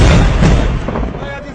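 Pakistan Army mortar firing: a loud, close boom at the start that rolls into a long, decaying rumble, with a fainter second swell near the end.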